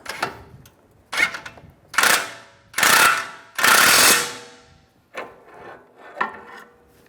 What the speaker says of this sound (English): pry it up while I just snug up the nut